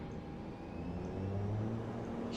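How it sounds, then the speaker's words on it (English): The twin turboprop engines of an ATR 72 build to takeoff power in Microsoft Flight Simulator 2020, Air New Zealand Link at Rotorua, as a steady low droning roar that swells gradually and holds, with no talk. "hear those engines roar into life"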